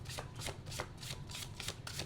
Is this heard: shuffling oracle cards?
yes